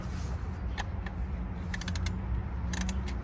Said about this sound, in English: You'll hear the click once it's torqued properly.